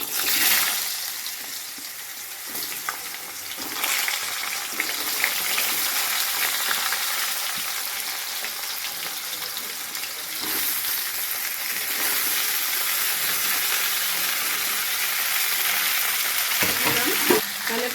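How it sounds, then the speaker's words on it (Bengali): Potatoes and broad beans fry in a pan with a steady, dense sizzle that holds at an even level throughout, broken by a few faint stirring scrapes. "এবারে আমি বাকি সবজি মানে আলু আর শিম এগুলো দিয়ে ভেজে নেব"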